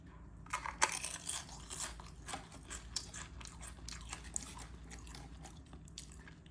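Someone bites and chews a crunchy beer-battered onion ring flavoured snack up close, with a sharp crack at the first bite followed by a quiet run of irregular crisp crunches and no talking.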